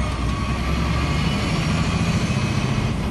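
A 10-speed tractor trailer engine running through a gear shift at an intersection, a deep, steady diesel rumble that holds close and loud with no pause.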